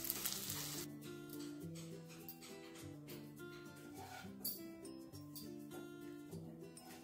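Bitter gourd curry cooks in a pan on a low flame, giving a soft, steady sizzle beneath louder melodic background music.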